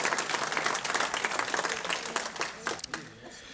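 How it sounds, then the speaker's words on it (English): Dense, steady clapping from guests at a library dinner event fills the room, staying strong before thinning into scattered claps and a few voices near the end. "Please join me in a big round of applause for their generosity and their continued support."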